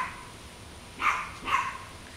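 A small dog barks twice at a squirrel in a pomegranate tree, two sharp yaps about half a second apart, moderately close over faint background noise.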